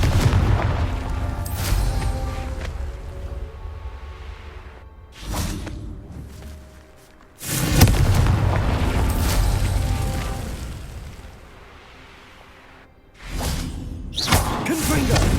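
Fire-blast spell explosions cast in a wizarding-school action game, big booming bursts with whooshing tails that roar and fade over several seconds, loud and close, with a few sharp cracks layered in.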